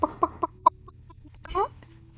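A voice imitating a chicken, giving four quick clucks at even spacing, then a short pause and a longer warbling squawk, close and fairly quiet over a low hum.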